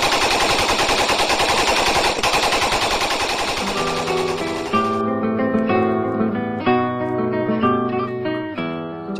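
A loud, sustained burst of rapid automatic Kalashnikov rifle fire lasts about five seconds, then gives way to music.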